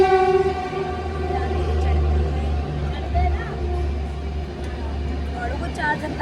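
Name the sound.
train arriving at Mathura railway station, passengers getting off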